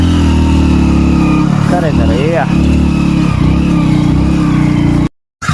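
A motorcycle engine drones steadily at mid pitch while riding over a rough dirt road strewn with loose soil, with brief bumps and a rising whine partway, and someone talks over it before it cuts out abruptly.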